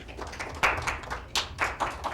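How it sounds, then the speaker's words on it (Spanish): Scattered clapping from a small audience at a formal debate on the state and administrative law, a few distinct bursts and sharp claps spread across the moment, fairly light and close, with no talking. "Con un fuerte aplauso."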